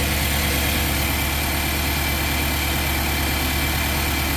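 A Nissan NV 3500 engine idles rough with a misfiring cylinder, a loud, steady close-up rumble with continuous vibration and no pauses.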